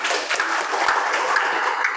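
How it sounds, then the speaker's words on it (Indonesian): Classroom applause for a student named Evan during a teaching session, a steady broadband patter of many hands clapping for about two seconds with no talk over it. "Boleh tepuk tangan untuk Evan"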